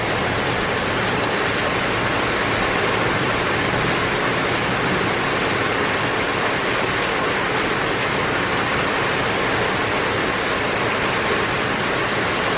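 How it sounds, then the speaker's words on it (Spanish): Heavy rain pours down as a dense, steady, loud broadband roar that stays unbroken for more than twelve seconds, with no distinct individual drops standing out. "llegó súper fuerte la lluvia"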